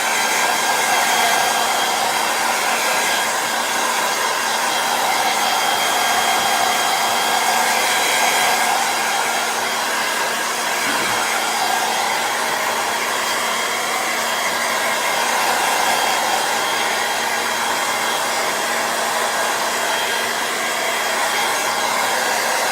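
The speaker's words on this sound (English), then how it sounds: "I'm going to just take my hairdryer and give it a quick dry" A hair dryer blows loudly and steadily, a constant whooshing roar with a faint motor whine throughout, no voices.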